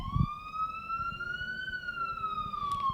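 An emergency vehicle siren wails on a Brooklyn street, one long smooth rising and falling tone, fairly loud and clear, with faint low street rumble underneath.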